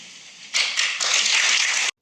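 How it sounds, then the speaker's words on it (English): Sustained applause fills a parliament chamber after a throne speech, a dense roar of many hands clapping that swells at once and carries on steadily until it cuts off. "those applause went on and on and on"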